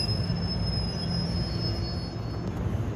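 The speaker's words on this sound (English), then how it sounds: "This is train 6662, Dover to New York." An NJ Transit train, number 6662 running Dover to New York, rolls past close by with a steady loud rumble of wheels on rails and a sustained high-pitched wheel squeal throughout.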